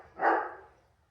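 A female dog gives one short, fairly close bark during a handling-training session, rising quickly and fading within about half a second with no talk over it.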